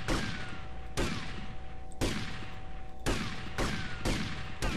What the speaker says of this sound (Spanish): ¿Por qué disparo mal?